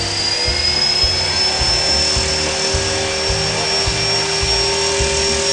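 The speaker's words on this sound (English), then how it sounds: "Watch my hands and watch what happens when I run this up." Small model helicopter rotor whirring loudly and steadily, with a rising high whine and rhythmic low chopping pulses.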